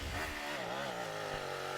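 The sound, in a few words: man imitating a revving car engine with his mouth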